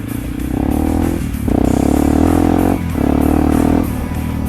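A Yamaha WR155R motorcycle with VVA valve timing revs hard in bursts, its loud buzzing engine note climbing and dipping between throttle blips over about four seconds, with no talking.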